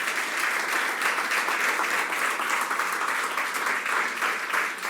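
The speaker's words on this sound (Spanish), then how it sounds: "Hónrelo con un aplauso a Él," A church congregation applauding during a Spanish-language service, a steady dense clatter of many hands clapping at moderate distance, sustained evenly for several seconds with no voices over it.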